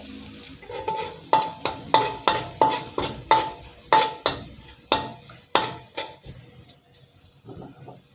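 Rhythmic clanks of a spatula against a wok with a sizzle underneath as chopped garlic fries in oil, about a dozen quick strokes, then a quieter stretch of frying near the end.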